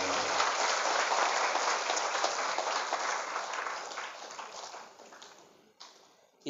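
Audience applause from hundreds of female religious teachers at a motivational session at Gontor Putri, a dense, steady wash of clapping that holds for about six seconds, then thins and fades near the end.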